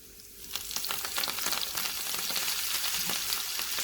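Dried chili and oregano tempering sizzles steadily in hot oil in a pan, a close, continuous frying crackle with sharp pops, with no talk.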